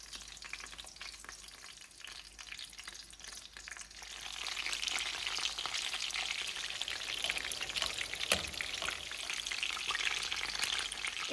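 Chicken seekh kebabs fry in hot oil over medium heat, giving a faint, steady sizzle and crackle that grows busier partway through, with a brief clatter near the end.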